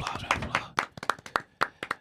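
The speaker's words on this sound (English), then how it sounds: "I need a round of applause." A small group claps for guest Vanita Krouch, the flag football player, a short sparse round of distinct close hand claps that thins out after a second.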